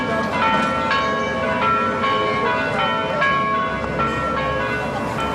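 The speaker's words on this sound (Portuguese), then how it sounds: "O sino você ouve, mas há prédios, há cartazes, há carros, há ônibus" A church bell rings repeatedly with long, overlapping tones, heard through steady city background noise of cars and buses in Santana, São Paulo.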